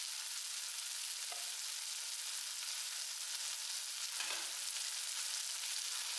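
Turmeric, chili and coriander powders sauté in a pan for chicken curry with coconut milk, giving a steady, even sizzle with a couple of soft stirring scrapes.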